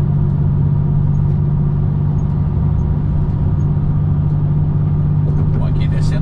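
A red Volvo NH truck heavily loaded with cargo runs its engine brake while descending a mountain road, giving a steady, deep droning rumble throughout, close and continuous.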